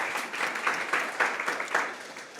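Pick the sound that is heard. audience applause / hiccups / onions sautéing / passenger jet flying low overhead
audience applause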